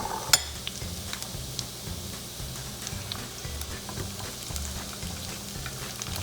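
Shrimp tossed into a hot pan with garlic for Thai chili shrimp sizzle steadily and softly, with a sharp clink of the pan at the start and light stirring noises throughout.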